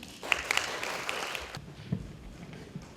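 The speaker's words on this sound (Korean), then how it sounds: "이태구 대표님을 큰 박수로 모시겠습니다" Audience applause welcoming the head of Next Page to the stage at a smart-city IoT presentation, a fairly quiet patter of clapping that swells briefly and then thins out.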